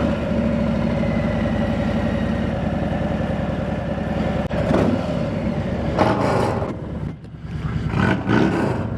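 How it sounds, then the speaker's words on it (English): A 2019 Harley-Davidson Road Glide with a modified motor and loud aftermarket exhaust pipes rumbles steadily nearby, a deep throaty idle that swells into louder revs toward the end, with no talking over it. "Somebody got some pipes behind me."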